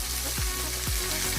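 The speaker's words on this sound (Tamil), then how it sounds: "சேர்த்து எல்லாத்தையும் நல்லா வதக்கிடுவாங்க." Three onions and curry leaves sautéing in a pan, a continuous dense sizzle with low periodic sweeps from stirring, steady and close, with no talk.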